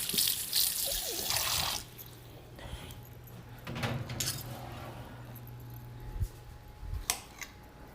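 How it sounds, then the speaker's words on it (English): Fingers rinsed under a running kitchen tap: a steady hiss of flowing water at the start, then soft drips, splashes and light handling clatter, fairly quiet and close. "I'm just going to rinse my fingers"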